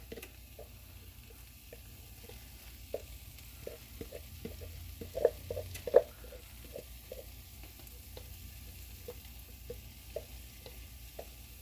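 Sloppy Joe sauce being stirred into cooked meat for a tater tot casserole, a soft steady scraping and wet stirring over a faint frying sizzle, with a couple of louder clacks of the utensil against the pan.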